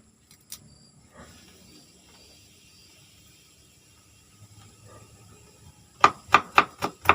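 A knife chops garlic on a board in a quick burst of five crisp knocks near the end, after a long stretch of near silence with faint rustles.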